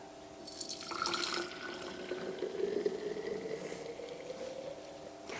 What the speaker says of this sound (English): So I'm just going to pour this into a clean mason jar here.